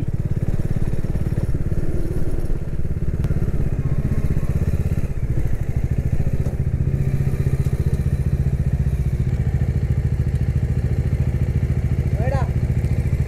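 Motorcycle riding along an expressway, the engine droning continuously and close with heavy wind rumble throughout, a voice talking over the ride.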